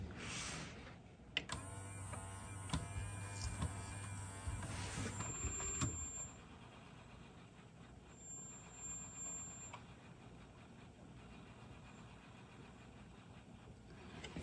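Teac V-900X cassette deck transport running, a faint mechanical whir with small clicks that stops partway, followed by quiet room hiss and a couple of thin tones.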